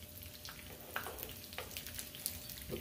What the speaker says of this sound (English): these have been frying for a few minutes